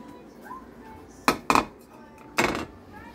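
A small pan is lifted out in a home kitchen, giving three sharp metallic clanks spaced over a second, close and fairly loud against a quiet room.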